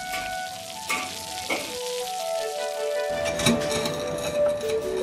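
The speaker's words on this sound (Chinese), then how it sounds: "下锅炸至酥透" Pieces of boned dried flounder deep-fry in hot oil in a wok, a steady close crackling sizzle with some bubbling pops throughout and no talking.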